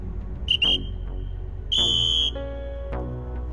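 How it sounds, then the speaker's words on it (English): Whistle blasts signal a sprint start at a team training session: two short, shrill blasts in quick succession followed by one longer blast, loud and close over steady background noise. "Two whistle, one whistle."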